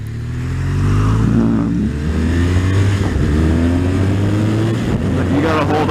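A 2016 BMW R1200RS motorcycle engine revving while warming up, a loud close steady drone that rises in pitch and holds high, with wind buffeting over it.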